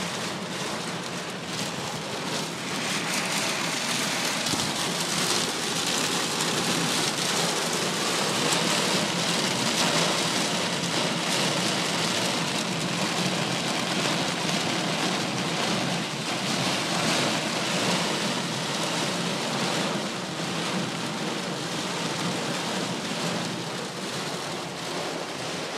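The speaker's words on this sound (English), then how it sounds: "That was some heavy rain." Heavy rain in the desert pounds steadily on surfaces as a dense, loud, continuous hiss that lasts throughout, with no voices.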